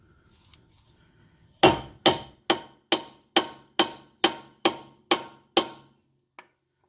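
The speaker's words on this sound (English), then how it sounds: "go ahead and get a big hammer. And what you're going to want to do is hit the corner of the knuckle right here" A big hammer strikes the corner of a steering knuckle to free the outer tie rod on a 2002-2006 Nissan Altima or 2004-2008 Maxima: ten loud, evenly spaced metallic blows ringing close up, then one faint tap.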